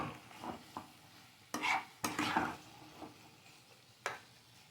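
Spiced potatoes and snails frying in a pan while being stirred, with a quiet continuous sizzle broken by several sharp scraping and clinking strokes of a utensil against the pan, no talk.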